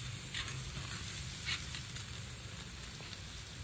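Steaks sizzle on a barbecue grill with a steady, faint hiss and soft crackling, heard close without any talk.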